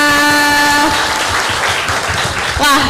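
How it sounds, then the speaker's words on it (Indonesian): Students at a vocational high school in Sumenep clap together in a noisy room, the applause building over a few seconds with some voices mixed in. "Kasih tepuk tangan dulu ya."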